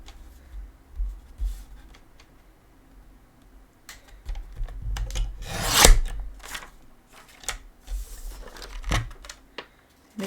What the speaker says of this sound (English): so got my paper cutter